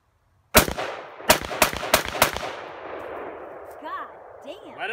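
Gunshots fired at a shooting range: one sharp, loud report, then four more in a quick close burst, each ringing out into a long echoing tail that fades slowly.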